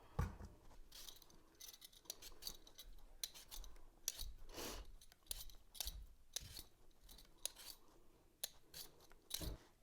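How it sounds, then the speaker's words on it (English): Potatoes being peeled for frites: a run of short scraping, rasping strokes at close range, irregular in rhythm, with brief pauses between them. "Now to make the frites, I'm going to peel some potatoes."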